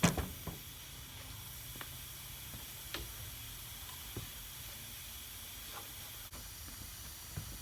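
Continuous hiss of primer being sprayed onto a car's windshield frame during windshield installation on a Hurst Olds G-body, steady and close, with a few faint clicks and no talking.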